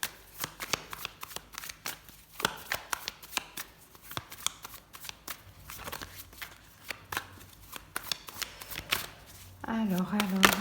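Tarot cards being shuffled by hand, a quick rhythmic series of crisp papery riffles and slaps, close and fairly quiet, ending in a brief louder burst.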